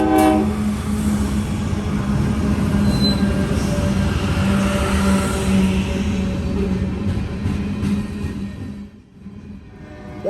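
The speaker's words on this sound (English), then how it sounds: "178 tonight is led on the head end by an AC 44C6M" A freight train led by an AC44C6M locomotive sounds a long, loud horn blast over rumbling wheels and rail noise, fading toward the end as it passes.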